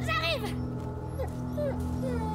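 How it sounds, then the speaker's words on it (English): A dog whimpers in the video game A Plague Tale: Innocence, giving a few short, thin, high whines at an even volume, mixed with game ambience under people talking. "Oh, the dog is whimpering."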